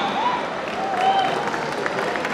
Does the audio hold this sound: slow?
no